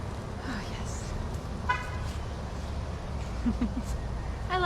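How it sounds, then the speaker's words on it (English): A short car horn toot sounds once amid outdoor traffic rumble, with faint chirps and murmuring in the background. "I love it when my neighbors honk at me and say hello."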